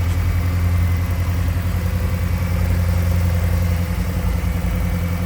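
A 1988 Ford Thunderbird Turbo Coupe's 2.3-liter turbocharged engine idles steadily nearby, a loud, even low hum with a constant rumble and no talk over it.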